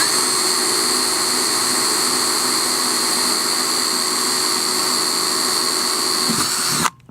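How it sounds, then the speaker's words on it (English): Steady, loud whine of a power drill with a 1/8-inch bit boring through material, running continuously before cutting off abruptly at the end. "I'll just go ahead and drill through with my 1/8-inch bit."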